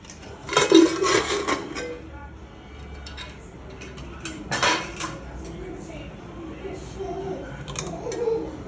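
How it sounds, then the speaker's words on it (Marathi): Metal clatters as a pressure cooker with cooked lentils is lifted and set down, a few sharp clanks of pots and lids followed by quieter handling sounds. "आता मी हा कुकर काढून घेते"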